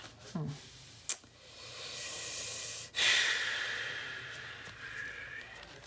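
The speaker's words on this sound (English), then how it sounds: "Breathing hard." A person breathes heavily at close range, with a few quick sniffs and long, airy exhales that swell and fade. The sound is quiet, with no talking.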